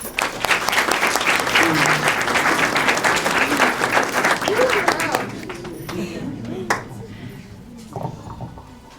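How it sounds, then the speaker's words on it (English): An audience at a high school letter of intent signing applauds loudly for an athlete, sustained clapping that gradually fades out, with a few voices and cheers scattered through it. "for that, we applaud you"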